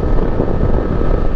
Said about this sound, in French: ça s'entend quand même que le vent tourbillonne sur la visière.